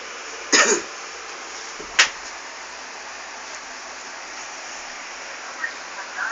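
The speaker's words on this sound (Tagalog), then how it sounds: "Sige, ubo pa." Two sharp coughs close to the microphone a second apart, then a quieter stretch with faint rustling and a soft throat sound near the end.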